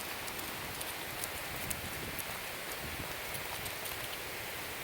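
Steady rain falls outdoors at sunset, a dense even hiss of drops on surfaces with scattered sharper patters, no voices over it.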